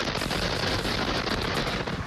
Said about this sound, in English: Two explosions from the TPC plant have literally shaken Mid-County.